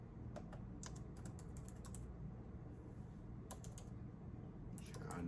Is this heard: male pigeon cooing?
no